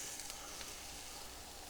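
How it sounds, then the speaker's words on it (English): Soft, steady crackling and hissing from fish frying in a hot pan, faint and continuous with no talking. "What we're looking for is a nice sizzle as soon as it hits."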